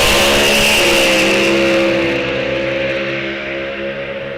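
Drag racing cars, including a 34 Roadster, launch at an NHRA drag strip with a loud, close engine roar that holds strong and then fades slightly as they pull away, no talking.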